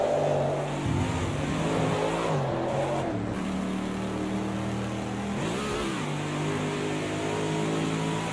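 Race car engine in Project Cars 2, racing at Spa in VR, revving and shifting steadily throughout with rising and falling pitch, close and loud, no talk.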